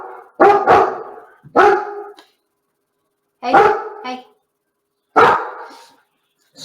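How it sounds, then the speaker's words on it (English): A dog barks in four short, loud bursts spaced about a second or two apart, each a sharp clustered bark, with someone briefly speaking nearby. "I think we're going to get barked at"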